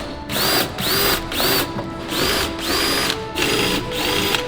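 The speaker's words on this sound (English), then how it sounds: "So we gotta drill these out the rest of the way and make room for the new rivets." A power drill whines in short repeated bursts, about eight pulses with brief pauses between, close and loud, drilling out old rivets on a Ferrari SF90 body.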